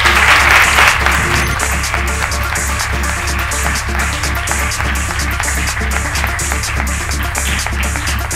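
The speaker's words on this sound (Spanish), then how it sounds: "Te pido un aplauso para estos colaboradores con Majos." Applause from a conference audience at a festival event, a steady sustained clapping that starts loud and holds at an even level throughout, with no voices standing out.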